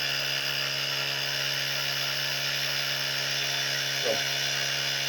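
Auxito jump box with a built-in air compressor running steadily, a constant buzzing hum with a strong low drone, close and even throughout, with a brief soft knock near the end.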